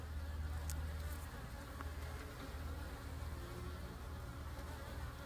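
Honeybee swarm buzzing steadily in and around a painted hive, a dense continuous drone close by with occasional louder passes of individual bees, no talking.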